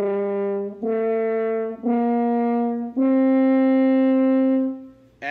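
A horn in F plays five sustained notes that step upward, each held for about a second and the last held longest. The tone is clear and mellow, close and steady, with no talking.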